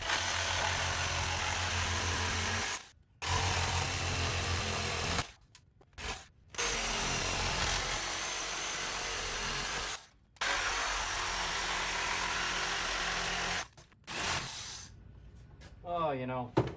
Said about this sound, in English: Okay, here is my estate sale skill jigsaw.